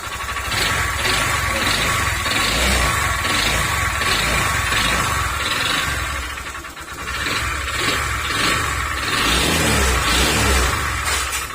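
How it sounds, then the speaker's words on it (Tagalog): A close, loud kuliglig (Philippine hand tractor) engine chugs roughly with an uneven rhythm, briefly dipping before picking back up, with a harsh rattling knock throughout. "Yan, yung tunog ng makina."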